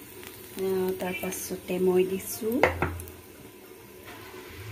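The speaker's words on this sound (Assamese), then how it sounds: "এয়া মই তেল গৰম হ'লে দেখিলা তেজপাত এনেকৈ মাজেদি ফালি দি দিছোঁ" Split bay leaves sizzle in hot oil in a pan, a steady frying hiss running beneath someone talking nearby, with a brief clatter of cookware.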